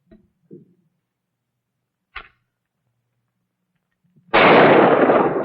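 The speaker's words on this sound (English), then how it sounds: "Now shoot the rifle." After a few faint taps, a single sharp rifle shot cracks out loud and close, its blast lingering briefly.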